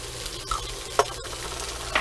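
A breakfast pan with curry powder and white pepper stirred over a steady sizzle, with a few sharp scrapes and knocks of the utensil, near and alone without voices.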